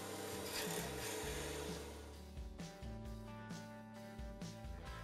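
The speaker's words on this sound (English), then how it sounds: "with the lathe running at about 2000 RPM, use your carbide tool to square the end of the blank" A wood lathe spinning near 2000 RPM as a carbide turning tool squares the end of a pen blank: a quiet, rough scraping over a steady motor hum, with small rhythmic catches toward the end.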